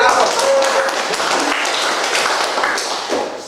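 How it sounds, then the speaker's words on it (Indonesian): Applause from an audience after a student presentation on a sport, dense clapping filling the room steadily and fairly loud throughout. "Kita beri aplaus."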